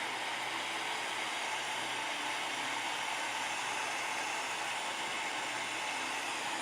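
Hot air gently heating the solder on an Amiga 4000 SIMM socket, a steady rushing blower hiss that holds evenly the whole time, close and moderately loud, with no talk.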